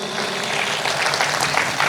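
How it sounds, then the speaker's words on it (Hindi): Congregation at a Christian gathering in Bombay applauding loudly, a dense, steady roar of many hands clapping together, close and continuous, with a faint murmur of voices underneath. "जोरदार तालियां बजाएं प्रभु यीशु को."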